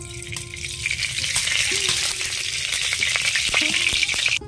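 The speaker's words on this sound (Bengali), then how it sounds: "কড়াই গরম হয়ে গেছে তেলটা দিয়ে দেবো" Hot oil sizzles steadily in a heated kadai while black cumin, black mustard seeds, garlic and green chilli wait to go in for mashed green banana; a loud, continuous frying hiss with small crackles, no voices.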